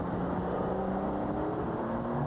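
Porsche 911 996 Turbo engine under way, a continuous close, loud flat-six drone with steady tone and slight rise in pitch, no voices over it.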